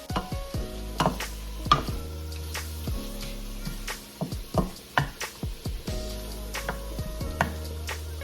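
Stew fish gravy cooking in the same oil used earlier to fry fish, a soft crackling sizzle with a low hum and scattered sharp clicks and scrapes of a spoon against the pan, close up, no talking.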